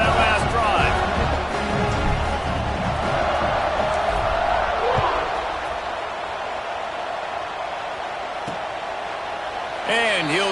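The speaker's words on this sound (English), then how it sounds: "this crowd is feeling themselves after that last drive" A stadium crowd in the College Football 26 video game roars steadily as a dense, loud wash of cheering, with a commentator's voice running over it.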